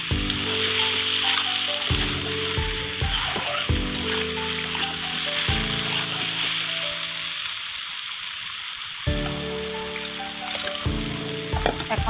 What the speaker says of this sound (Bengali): বেগুনগুলি আমি একটু নাড়াচাড়া করে দিলাম।